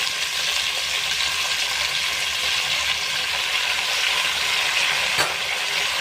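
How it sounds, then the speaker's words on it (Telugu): Spinach hits hot oil already holding fried green chillies for a palakura tomato chutney, giving a loud, continuous close sizzle with one brief sharp clink near the end. "పచ్చిమిర్చి ఈ విధంగా ఫ్రై అయిన తర్వాత మనం ముందుగా కట్ చేసి క్లీన్ చేసి పెట్టుకున్న పాలకూర కూడా ఇందులో వేసేసుకోవాలి"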